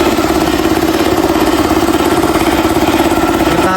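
An electric motor driving a compressor pump runs steadily and loud, a continuous mechanical hum with a fast, even vibrating pulse throughout.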